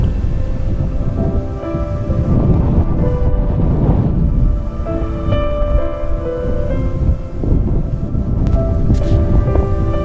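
Strong wind gusts across the slopes of Mount Sumbing, roaring and buffeting the microphone continuously at close range for the whole stretch, with faint tonal sounds faintly audible underneath.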